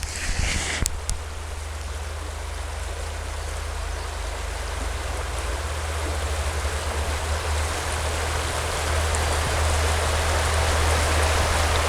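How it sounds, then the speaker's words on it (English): Water of an Ohio river flowing during a forest walk, heard as a steady, broad rushing wash with a constant low rumble beneath, close and continuous with no talk. "So hopefully you can hear some of that water flowing right now."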